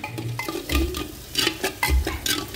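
A spoon scrapes and knocks around inside a handi pot while stalk curry with cloves and spices is stirred, in short irregular strokes with soft sizzling beneath and a few low thumps.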